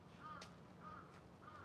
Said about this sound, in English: There's some violent crows there.